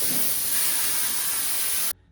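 Contact adhesive sprays onto the back of a fake leather bomber seat cover in one steady, close aerosol hiss lasting about two seconds, then cuts off abruptly.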